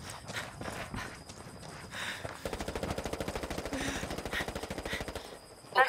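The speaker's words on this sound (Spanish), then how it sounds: "¡Nos disparan!" Rapid bursts of automatic gunfire in a video game firefight, a dense rattling stream of shots in the second half after scattered earlier fire, loud and close.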